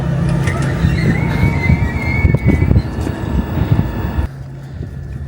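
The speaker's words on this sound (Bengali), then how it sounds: "আমাদের ট্রেন চলে আসছে" A train pulling into a station in Stockholm, heard as a loud low rumble with wind buffeting and a faint high whine. Clattering bursts build toward the end before the noise drops away abruptly.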